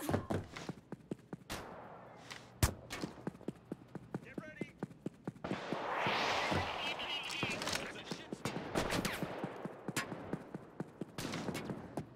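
Gunfire in the video game Payday during a Watchdogs Death Wish mission: sharp shots crack irregularly throughout, some in quick bursts, under shouted talk and busy action noise.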